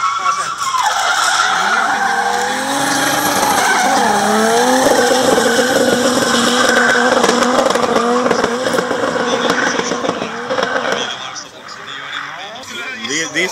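Diesel drift car sliding on a race track, with continuous loud tire squeal and engine noise lasting over ten seconds before easing off, while people talk nearby.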